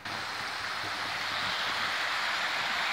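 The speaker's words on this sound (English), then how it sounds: "look at that waterfall" A waterfall beside a bike trail in New York, heard as a steady, broad rushing roar of flowing water, constant and fairly close, with no talk.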